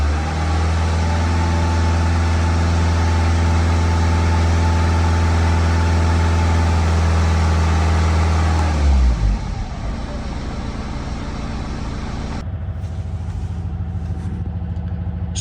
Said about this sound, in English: once you've got it started, just give it a few revs